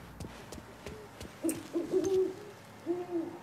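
An owl hoots in the video game Mafia III, with a few soft, low calls at moderate distance over quiet ambient noise and faint clicks.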